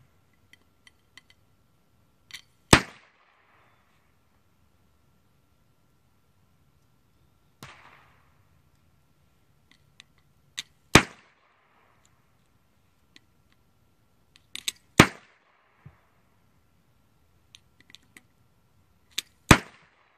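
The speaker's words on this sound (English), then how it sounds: "And now we'll go see the video of me firing 5 rounds just with a tube." Subcaliber mortar training device, a 3-F-8 subcal tube, firing five rounds outdoors: a series of sharp, loud reports spaced several seconds apart, each with a short echoing tail, plus faint clicks and handling noises between shots.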